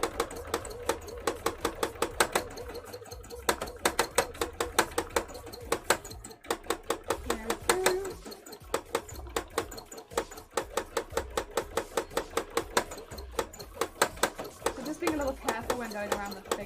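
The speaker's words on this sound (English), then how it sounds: "Thank you, sewing machine." A sewing machine stitches pieces for a Doppel cosplay costume, giving rapid, steady mechanical clatter in runs with short pauses, close and fairly loud, with a low hum underneath and a voice talking over part of it.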